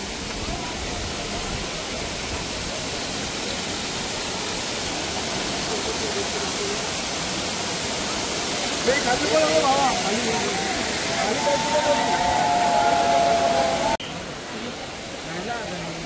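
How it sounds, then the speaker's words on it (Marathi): Kalu waterfall in the misty Aadrai jungle roars as a steady, broad rushing wash of falling water, constant and fairly distant, with a faint tonal sound and a voice briefly rising over it toward the end. "जे या ट्रेकिंगचं खास आकर्षण आहे ते म्हणजे काळू धबधबा"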